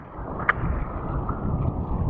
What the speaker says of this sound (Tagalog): Napakalakas ang hangin guys.